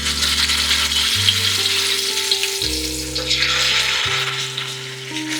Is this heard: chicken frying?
yes